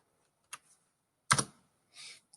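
A few sparse, quiet keystrokes on a computer keyboard while entering a value into a spreadsheet cell, isolated clicks with short pauses between them.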